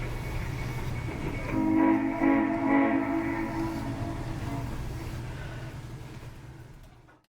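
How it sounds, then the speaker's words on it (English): The Durango and Silverton steam train pulling into Durango blows a long, loud multi-tone whistle over a low rumble of the train, which then fades to quiet. "we could hear the Durango and Silverton steam train pulling into Durango"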